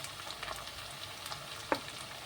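Chopped tomato goes into onions frying in a pan, a quiet, low sizzle punctuated by one sharp utensil clink near the end.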